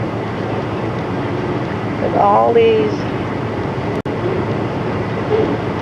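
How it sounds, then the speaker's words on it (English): A train passes at a railroad crossing in the northwest USA, heard as a continuous broad rumbling hiss from start to end, with a short spoken phrase in the middle. "we just happened to hit the railroad crossing at the right time here. So hence we see a train"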